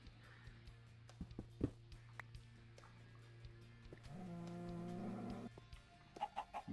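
A Minecraft chicken clucks in short, soft bursts, with a brief louder passage midway and quick clucks near the end over a faint steady background.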